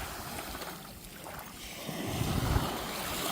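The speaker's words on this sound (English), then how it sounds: "Oh, the water sounds amazing." Water at a Long Island beach: a constant, broad, washing roar, with wind buffeting a nearby microphone and a slight swell in the last second.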